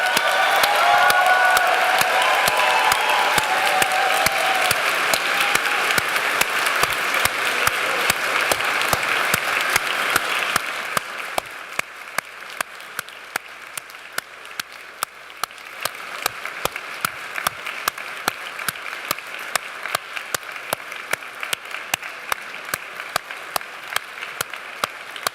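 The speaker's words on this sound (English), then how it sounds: "Let's give the class of 2029 a round of applause." A large audience at a medical school white coat ceremony for the class of 2029 gives loud, sustained applause with some cheering, then settles into softer, steady clapping.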